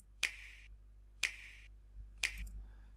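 Three crisp, sharp clicks spaced about a second apart, each a short bright snap with a brief tail, in the style of the Nintendo Switch logo click, alone over a faint low background hum.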